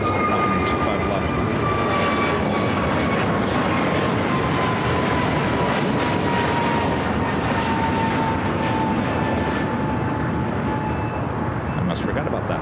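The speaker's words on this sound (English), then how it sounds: "We got our takeoffs happening 25 left." Airliners take off from runway 25 left at LAX, heard from Imperial Hill as a loud, continuous jet roar with a slowly falling engine whine that fills the scene.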